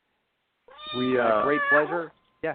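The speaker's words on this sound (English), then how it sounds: "Oh, that's my cat." A cat meows loudly and close by in a drawn-out, wavering cry that is followed by a short second call, overlapping brief speech from people.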